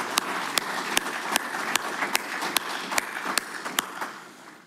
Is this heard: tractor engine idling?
no